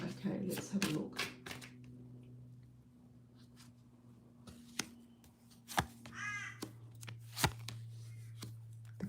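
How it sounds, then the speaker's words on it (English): A crow caws a few times at moderate distance, harsh calls standing out between scattered taps and clicks, while a voice talks over a steady low hum. "The crow's saying yes."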